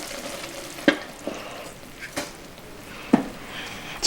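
Hot caramel bubbles softly as vanilla extract and salt go in, with a utensil stirring through it and a few distinct knocks against the pot, all fairly quiet and close with no speech.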